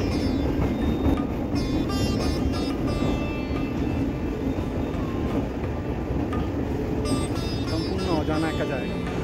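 A train carries riders past the Khidirpur docks in Kolkata, its wagons giving a steady rumble with rhythmic clatter of wheels on rails heard from inside the car.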